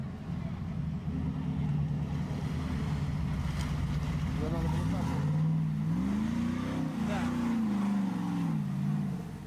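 Hummer H2 engine working hard on an extreme off-road trail, a steady loud drone with a rising, wavering growl in its second half, buffeted by wind noise throughout.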